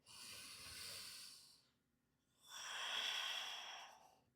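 Two slow, deep breaths during a yoga session, an airy inhale and then a longer, stronger exhale after a short quiet gap, close and soft.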